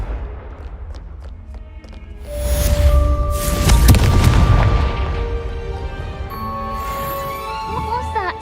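A Confringo fire spell detonates in Hogwarts Legacy: a deep, roaring blast swells up, peaks for a couple of seconds and then rumbles away beneath sustained musical tones and a voice.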